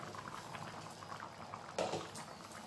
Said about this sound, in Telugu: ఇప్పుడు ఒకసారి అంతా కలుపుకొని లిడ్ పెట్టేసుకొని ఒక 5 మినిట్స్ ఉడికించుకోవాలి